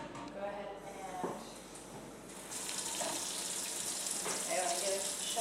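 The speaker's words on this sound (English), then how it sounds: "What we're going to do is just rinse these seeds out" Running water pours and splashes steadily over sprout seeds being rinsed in a sprouting tray, growing louder partway through, with a voice speaking briefly underneath.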